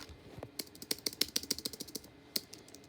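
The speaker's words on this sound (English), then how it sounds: "Keys actually feel good. This is actually a good keyboard." Rapid typing on an off-brand Bluetooth keyboard, a quick run of crisp key clicks up close with a brief pause before one last tap, no voices.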